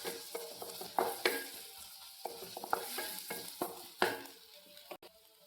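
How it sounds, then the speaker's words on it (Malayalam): Onions sauté in a pan for a Kerala-style paneer roast, with a soft sizzle broken by repeated scraping strokes of a spatula stirring close by in an uneven rhythm. "ഉള്ളിയെല്ലാം വഴന്ന് വരുന്നുണ്ട്."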